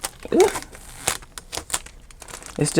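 Inexpensive thin packing tape crinkles and tears in short bursts near the start and end, with quieter handling rustles in between.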